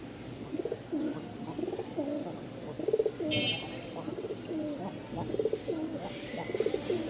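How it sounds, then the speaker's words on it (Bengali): A male Lal Sundori pigeon coos close by in repeated throaty, rhythmic bursts over a low background murmur. "নরের খুব মার্শাল্লাহ ডাক আছে এই দেখেন"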